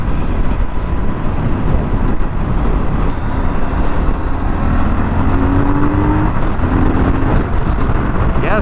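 A Triumph Scrambler 1200 XC/XE motorcycle pulls hard in fourth gear at speed, a loud, rough engine drone mixed with heavy wind rush, with a faint rising pitch, and no talking.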